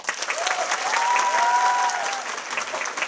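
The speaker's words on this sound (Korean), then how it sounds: "감사의 박수 한번 주세요." An audience at a Korean professional football club's fan day event claps loudly and continuously. A few voices cheer and whoop over the dense applause partway through.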